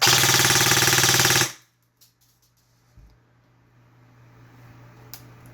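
A CM16 SRS airsoft rifle with a ZCI high-torque motor fires a loud, dense burst of rapid shots for about a second and a half. It cuts off abruptly, leaving a faint low hum and quiet background.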